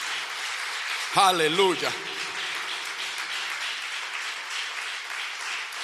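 A church congregation breaks into a burst of applause and clapping with a voice crying out, lasting about a second before settling into a steady murmuring room noise.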